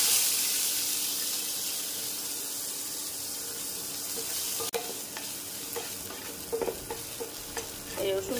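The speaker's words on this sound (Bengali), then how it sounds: "এই রসুন পেঁয়াজটাকে একটু ভেজে নেব।" Chopped onion and garlic fry with black cumin in hot oil, giving a steady close sizzle with occasional stirring clatter later on.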